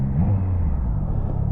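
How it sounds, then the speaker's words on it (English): A Triumph Trident 660 motorcycle engine revs up briefly and settles back, a close, steady low rumble with a short rise in pitch near the start. "This one kind of revs up, comes down."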